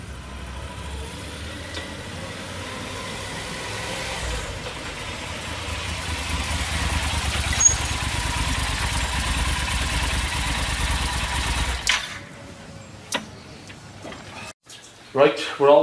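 Motorcycle engine idling steadily and fairly close while the bike is wheeled aside on a roadside, a steady rumble that cuts off near the end, followed by a few clicks and knocks.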